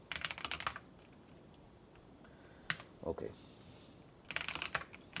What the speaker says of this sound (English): This is the thing with me typing on the keyboard on the CLI. I always type fast.